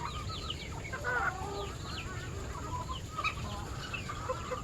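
Hens clucking around a backyard plot, several birds trading soft overlapping clucks and short calls at close to moderate range, over steady low outdoor background noise.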